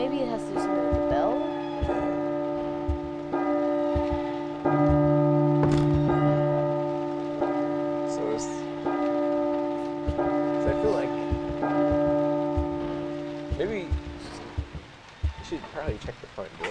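A bell tolls repeatedly in the P.T. horror video game, sustained ringing tones struck at a steady rhythm over a rain-like ambient hiss, with a person talking over it.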